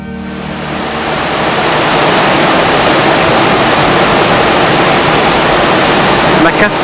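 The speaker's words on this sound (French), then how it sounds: "La cascade de Pickvilliers." A waterfall in Iceland, at the foot of a rift, roars as a dense, loud, continuous rush of falling water that builds slightly and then holds steady.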